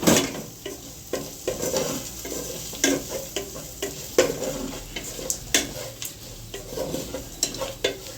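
Paneer pulao with masala is stirred and fried in a pan, a continuous sizzle broken by repeated scraping and clinking of a spoon against the pan, with no voices.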